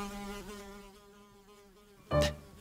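Close fly buzzing with a wavering pitch, fading somewhat midway, then cut by a sudden sharp slap or clap near the end.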